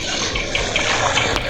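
Water pours steadily into a pit outdoors, a continuous rushing, splashing wash with no pauses, moderately loud and close.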